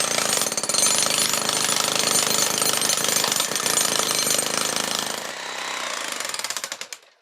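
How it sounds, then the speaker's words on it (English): A Kango hammer drill pounds continuously at close range breaking up a concrete shed base, loud and steady, then slows and stops near the end. "A Kango hammer drill does the job nicely."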